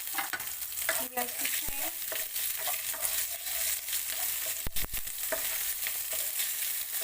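Green chili fries in a pan while cooking sabudana khichadi, giving a continuous crackling sizzle with occasional stirring clicks and scrapes, and a person briefly speaks over it.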